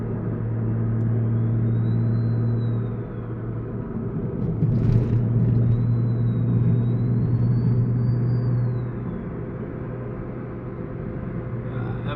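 Loud modified turbocharged car engine with a T51R mod pulls uphill, a steady low rumble that swells and eases as the throttle changes, heard from inside the car with a faint whistle above it.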